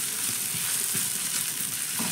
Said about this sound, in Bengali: 5-7 সেকেন্ড মতো সয়াবিনটাকে হালকা একটু তেলের সঙ্গে নাড়াচাড়া করে ভেজে নেব।